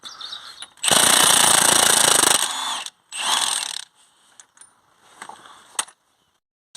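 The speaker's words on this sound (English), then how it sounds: "We're going to use a 32mm socket here to open the drive shaft nut" A pneumatic impact tool hammers at the rusty drive shaft nut of a Ford Focus with a 32mm socket, firing a loud, sustained rattling burst, then a shorter second burst, followed by scattered clinks of tools being handled.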